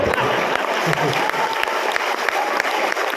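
Audience applause fills a comedy poetry show in Lucknow, a steady, dense clapping from a crowd that runs unbroken for the whole stretch with no voices rising above it.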